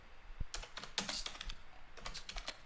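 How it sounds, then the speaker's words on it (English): Loud, rapid clacking of a computer keyboard, bursts of keystrokes in quick uneven rhythm, close and prominent, with no one talking over it. "Who's typing so loud?"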